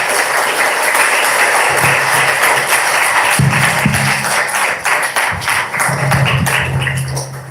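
A large audience gives a loud, sustained round of applause for a speaker at a spiritual mantra gathering, with dense clapping and occasional low thumps throughout.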